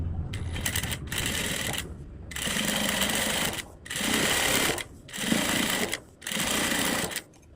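A sewing machine stitches a hook strip onto a blouse in repeated bursts of about a second or more, separated by short pauses, close and steady.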